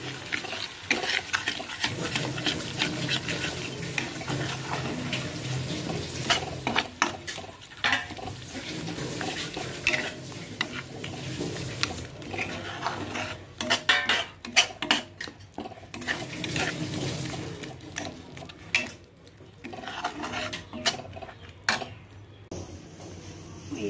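Chickpeas with spices and yogurt are stirred in a pot with a metal spoon, scraping and clinking in irregular strokes over a steady cooking hiss.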